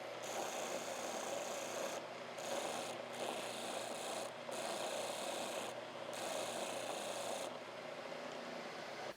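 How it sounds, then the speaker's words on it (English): A disc sander grinds the edge of a wooden disc flat, a steady close abrasive rasping roar that is broken by several short dips as the wood is lifted off and pressed back on. "I'm going to take this over to the disc sander and I'm going to make that flat"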